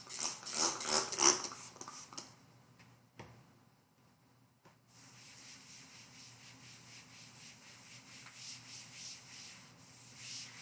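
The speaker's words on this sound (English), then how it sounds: "So let me clean this off." A board is wiped clean during a lecture with a couple of seconds of soft, close rubbing strokes, then a faint steady swishing that continues quietly, with no talking.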